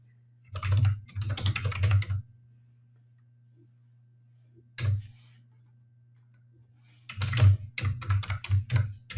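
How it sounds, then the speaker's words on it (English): Quick bursts of keyboard typing come in short runs separated by pauses, with a steady low electrical hum underneath. "Just typing in any address here."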